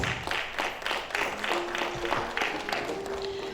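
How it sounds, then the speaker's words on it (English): An audience at a lecture honouring an engineer breaks into applause, with a steady patter of many hands clapping, moderately loud and sustained, and a faint tone held in the background. "Please can we give her a round of applause?"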